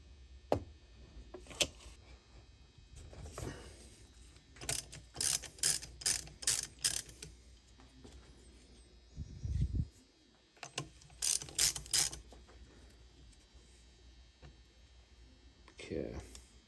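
A ratchet wrench loosens a bolt while tearing down a CR85 engine that locked up during riding. Bursts of rapid, close mechanical clicking sound in short runs with pauses between them.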